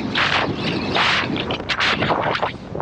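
Strong wind blows across an open beach on Jersey's south-east coast at low tide, a loud, steady roar with gusty surges battering the microphone throughout.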